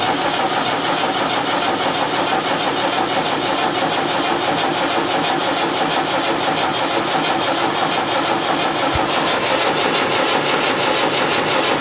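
Land Rover Series 3 engine cranking on its first start attempt, a loud, close, continuous rhythmic churn of the starter that runs without a break for over ten seconds and never catches.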